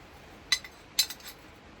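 A knife set into a homemade holder of 1/8-inch steel fastened with 1/4-inch bolts, giving two sharp metallic clinks about half a second apart, each followed by a faint rattle, with no talk.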